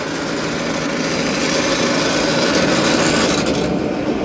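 Knives from a corn silage harvester being sharpened, a steady continuous grinding rasp with a whirring machine drone underneath, loud and close, no voices.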